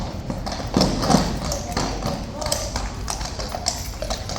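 An agitated horse stamps and shifts its hooves in a sentry box at Horse Guards during a noisy protest, irregular hollow thuds and clops close by under steady crowd chatter and voices.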